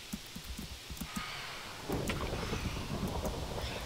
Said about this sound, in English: It's just a freaking thunderstorm.